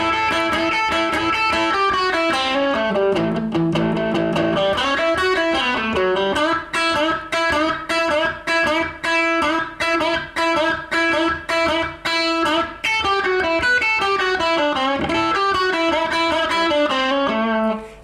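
A distorted electric guitar plays a rock and roll solo, with bends, runs and a stretch of choppy repeated double-stop stabs, loud and up front.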